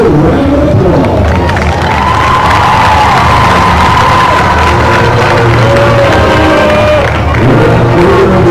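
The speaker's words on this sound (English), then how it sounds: "They will recognize the winning team, but please give them another round of applause." A homecoming crowd at Conroe High School cheers and applauds loudly and continuously, with whoops and shouting children rising over a dense roar of voices throughout.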